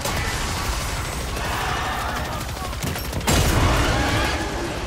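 Rapid gunfire in the zombie shooter Dark Aether, a dense continuous rattle of shots with metallic mechanism clatter, swelling louder near the end.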